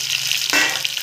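Mustard seeds and green chili drop into hot oil in a pan for a tempering, a brief sizzling burst that flares up midway and quickly settles into a soft hiss.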